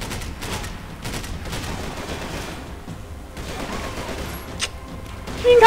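Gunfire in the Max Payne 3 video game, dense rattling bursts of shots continuing throughout at moderate loudness, swelling louder at the very end.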